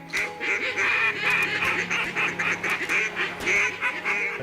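A flock of geese honks loudly and close by, with rapid, overlapping calls that continue without pause throughout.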